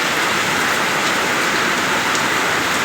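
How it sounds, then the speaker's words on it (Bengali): Rain falling steadily at a school, a dense, even hiss of drops striking surfaces close by, unbroken for the whole stretch with no voices. "সুন্দর বৃষ্টি হইতেছে"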